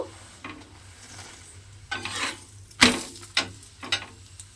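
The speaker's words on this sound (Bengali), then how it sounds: "এইভাবে গ্যাসটা লোতে দিয়ে আমি পরোটাটা খুব ভালোভাবে লাল করে ভেজে নেব" A paratha sizzles softly in a pan over low gas while a utensil scrapes and taps against it several times, with a low steady hum in the background.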